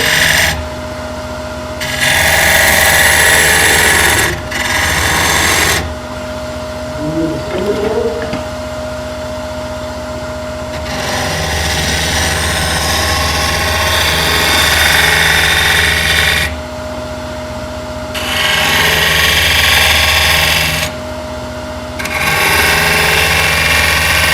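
A wooden spinning top being hollowed out on a lathe with a turning tool: loud, harsh cutting bursts of several seconds each alternate with quieter stretches of the lathe's running hum, close up and without talk.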